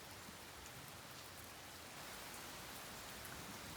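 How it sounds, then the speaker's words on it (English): Steady rain falls during an afternoon thunderstorm, a soft, even hiss of drops on surfaces that continues without pause and with no voices. "Rain sounds like it's sorta picking up again."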